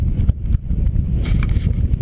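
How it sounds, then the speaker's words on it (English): Steady wind buffeting and rumbling across the microphone on the Pen y Fan Horseshoe in the Brecon Beacons, a low roaring whoosh with brief gusty surges throughout. "Windy!"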